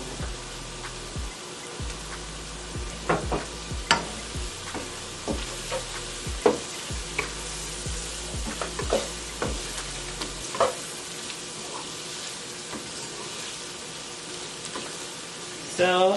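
Flour is stirred into a sizzling pot while making cream of broccoli soup, a soft steady sizzle with irregular scraping and knocking from the stirring, fairly quiet and close.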